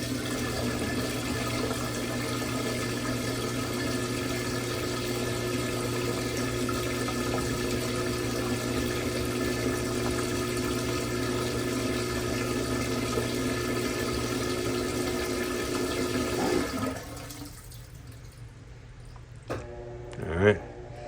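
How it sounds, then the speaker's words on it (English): A Whirlpool/Maytag washing machine drains water, a steady pump whine with rushing water that runs for about sixteen seconds, then cuts off, leaving a few clicks and knocks. "It's going to drain and spin, but it's going to drain again."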